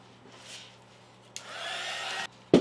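A hair dryer blows steadily over a pot coated with 1 hour enamel paint, its airy whoosh rising and falling as it is moved, then cutting off with a sharp knock at the end.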